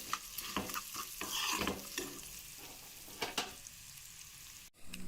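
Large-cut onions and turmeric stirred into hot oil for a tempering for a chutney, with a spoon scraping in irregular strokes over a soft, steady sizzle.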